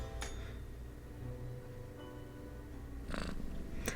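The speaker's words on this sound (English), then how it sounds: "occasionally emanating a soft snore-like purr" A sleeping cat in the video game Death and Taxes gives a soft, low snore-like purr, rising and fading in slow breaths, quiet and alone with no talking.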